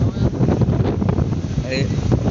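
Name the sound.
wind blowing over the river while riding a launch boat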